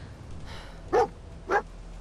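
Dog barking inside Fallout 4: two short, clear barks about half a second apart, moderately loud over a quiet ambient game background.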